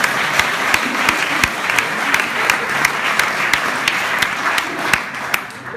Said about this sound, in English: Applause for Filip.